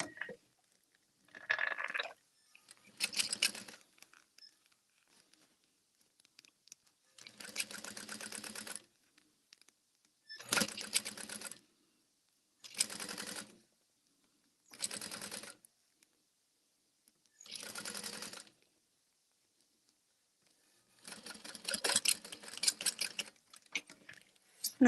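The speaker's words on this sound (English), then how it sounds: "we're going to start sewing at that line and stop sewing at that line." Sewing machine stitching a handbag: repeated bursts of fast, steady mechanical whirring, some short and some a couple of seconds long, separated by silent pauses, fairly quiet and close.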